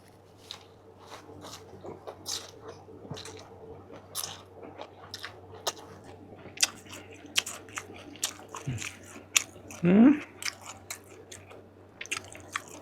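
Quiet, close chewing of Thai rice noodles (khao pun), with soft wet squishes and bites repeating irregularly, one brief louder slurp near the end and a faint steady hum underneath.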